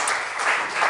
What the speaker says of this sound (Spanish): se merece un aplauso, de verdad